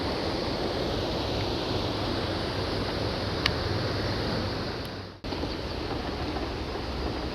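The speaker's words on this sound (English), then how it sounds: "You see the waterfall." The waterfall at Aberdulais in South Wales gives a steady, full rushing roar from nearby, unbroken except for one brief dropout near the end.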